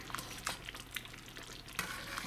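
Cornmeal cooking in a pot is stirred in intermittent scraping strokes, soft bursts of spoon against pot over a quiet low simmer, faint and close.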